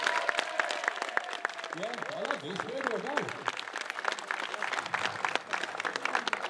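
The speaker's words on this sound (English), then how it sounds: "Come on, give him a cheer." Crowd applause and cheering at a street car weekend, sustained through the clip beneath a loud announcer talking over a PA, with a scattered, continuous clapping texture.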